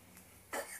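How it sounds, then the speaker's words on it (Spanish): A single short cough, faint and somewhat distant, breaks a quiet room near the end. "la tos que tiene la pobre infeliz"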